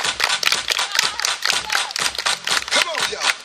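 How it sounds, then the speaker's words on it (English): A group claps hands in a quick, fairly steady rhythm for a few seconds, the dense claps close and loud, while voices chatter and call out underneath during a dance routine. "Everybody clap your hands"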